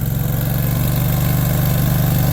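A small engine on a new conveyor runs loud and close with a steady, throbbing low drone, its rumble holding level throughout.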